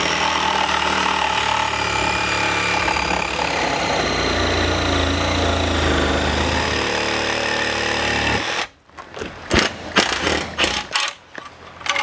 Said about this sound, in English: This is my first time getting to use my brand new Sawzall.